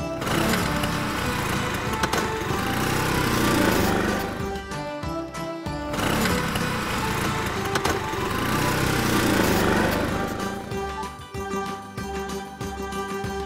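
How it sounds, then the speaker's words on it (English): A small scooter engine buzzes steadily at high pitch, a continuous droning whine that rises and falls slightly over several seconds, fairly close and alone without talk. "Scooter."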